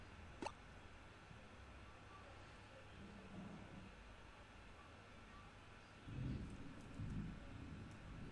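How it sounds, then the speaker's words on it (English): Thunderstorm outside a room, with low rumbling thunder rolling faintly in the distance over a steady hiss of rain, swelling a little louder near the end. "if you manage to hear thunderstorms, that's because it's going to rain over here"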